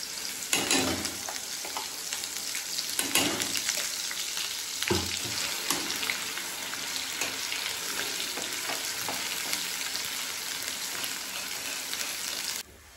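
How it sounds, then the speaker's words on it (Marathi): Ground masala paste sizzles and spatters loudly in hot oil for a spicy mutton curry, with a steady frying hiss broken by several sharp stirring bursts. "तेल गरम झालेलं आहे, त्यामध्ये आपण जो आपण वाटण केलेलं आहे ते यामध्ये टाकूया।"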